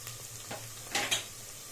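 Faint clatter and scrape as carrots and beans go into a pan of golden fried onions, a couple of quick knocks over a low background hiss.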